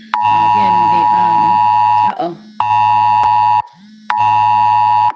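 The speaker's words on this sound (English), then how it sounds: "we got us an alarm." A loud electronic emergency alert alarm beeps in long sustained bursts, three of them separated by short gaps, with a voice speaking under the first burst.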